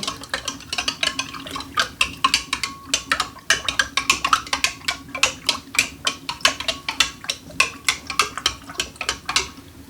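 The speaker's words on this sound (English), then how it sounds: "A couple minutes worth of stirring to make sure that's all squared away." Salt being stirred into cold water for golden beet kraut brine, a fast steady run of bright clinking taps as a utensil strikes the container's sides, close and clear with no talking.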